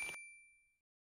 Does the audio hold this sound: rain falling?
no